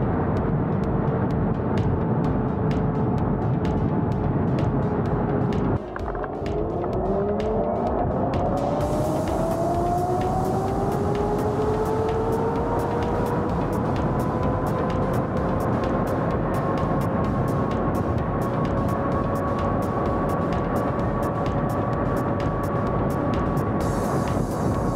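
Inmotion V13 electric unicycle ridden at high speed into a crosswind: a loud, constant wind roar buffets the rider while a motor whine slides upward in pitch and then holds steady. There is no talking.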